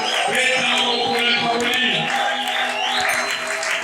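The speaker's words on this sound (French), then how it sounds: "Quelqu'un peut applaudir sa bénédiction" A church congregation claps and cheers with joy during a blessing, a steady crowd din of applause mixed with voices and sustained tones.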